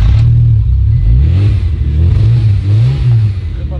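A car engine with a sports exhaust revs loudly nearby in winter, its pitch rising and falling in repeated throaty surges with a deep exhaust rumble.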